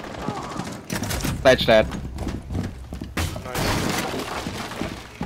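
Gunfire from Rainbow Six Siege crackles in short bursts and single sharp shots among in-game clatter, mixed under a player's voice speaking briefly, with the loudest cracks clustered in the first half.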